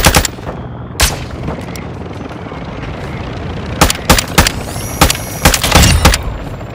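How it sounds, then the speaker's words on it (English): In Call of Duty: Modern Warfare II, a mortar strike and gunfire produce sharp, loud explosive cracks and booms. They come in irregular clusters over a continuous battlefield rumble. "Friendly mortar strike on the way."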